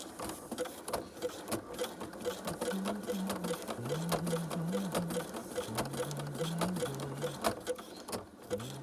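A sewing machine stitches numbers onto the arm of a jersey, running in steady bursts of rapid mechanical whirring with brief pauses and pitch shifts as the speed changes, close and continuous.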